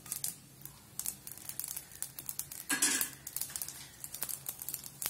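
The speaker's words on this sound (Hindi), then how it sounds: "आप आवाज सुन सकते हो क्रैकल होने की।" Mustard seeds pop and crackle in hot oil in a pan while sambar is being made: a quiet, irregular patter of small sharp pops with one brief louder sizzling burst.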